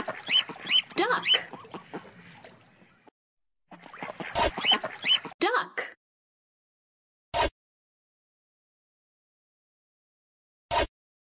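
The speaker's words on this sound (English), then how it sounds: "Duck!" A duck quacks in short clustered calls during the first half, alongside a few sharp clicks, and then trails off into quiet with only two brief isolated sounds. Farm animal sounds.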